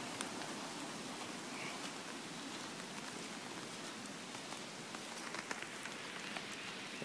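Light rain patters steadily and softly on surfaces outdoors, a continuous gentle hiss with scattered drops and no voices.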